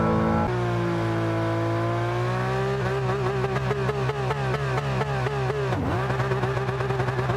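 A 2JZ-swapped Nissan Silvia S15 drift car in Gran Turismo 7, idling at 6,000 RPM, holds a harmonic whine, then its anti-lag pops and crackles in rapid bursts while the pitch rises and dips, sounding synthetic, loud and close.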